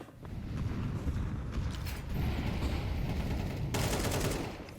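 Steady, dense gunfire from Counter-Strike 2 during a competitive match, continuous overlapping rifle bursts throughout, with a brighter, harsher burst near the end.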